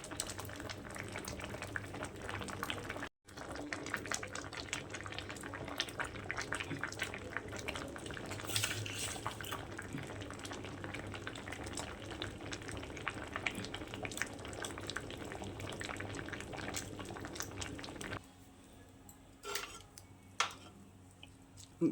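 Water is poured off a pot of freshly boiled tapioca, a continuous close rush and gurgle of liquid with light pot knocks that carries on steadily before cutting off near the end, leaving a few faint clatters.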